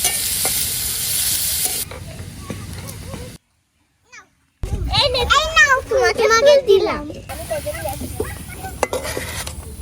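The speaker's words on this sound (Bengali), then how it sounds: "খুন্তি দিয়ে ভালোভাবে নেড়ে নেব" Chillies and onions sizzle in a pan as a spatula stirs them during outdoor village cooking with children; the frying hiss runs under children's chatter and voices, broken by a brief near-silent gap.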